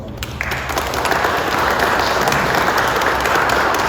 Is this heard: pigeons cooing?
no